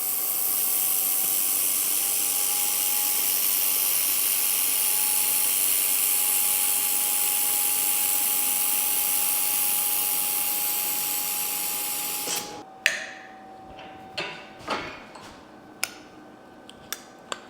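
A handheld laser welder runs on a steel T-joint with a steady loud hiss and a faint high whine for about twelve seconds, then cuts off, leaving sharp metallic clicks and taps in a quieter shop.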